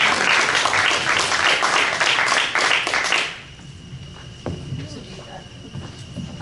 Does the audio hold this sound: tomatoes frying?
no